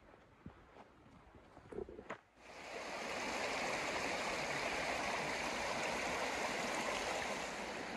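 A mountain river in Gila wilderness wilderness rushes steadily and loudly after a few faint footsteps, a continuous broad wash of flowing water close by.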